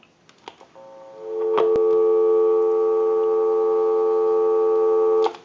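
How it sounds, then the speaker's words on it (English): A steady dial tone from a candlestick telephone converted after repair hums continuously for several seconds after a few faint clicks, cutting off abruptly at the end. "Go ahead and give you some dial tone."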